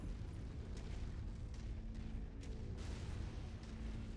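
A rumbling, sustained explosion blast from a destroyed target in the mech combat video game MechWarrior 5, loud and broadband, with low-end booms and crackling bursts running across the whole stretch.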